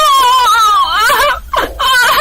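People wail and sob in a loud, sustained outcry with wavering, high pitched moaning voices that briefly break off and then resume.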